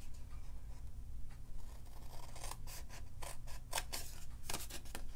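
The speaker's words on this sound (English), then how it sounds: "I'm going to cut up on the score lines up to the first intersection right there." Scissors snip through card stock along score lines while tabs are made for a golf-themed gift box, starting with quiet handling and then a run of sharp, close cuts in quick succession.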